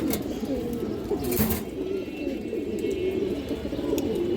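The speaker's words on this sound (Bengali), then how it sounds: "একটা খুব সুন্দর মাদি কৌতার আছে এটা সিলভার ভেজিটারের একটা মাদি কৌতা" Pigeons coo in a low, steady murmur close by, among them a female silver pigeon of a breed being sold, with soft rhythmic cooing throughout and a brief brighter burst near the middle.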